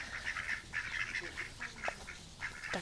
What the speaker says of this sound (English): There's like a herd of ducks around our room.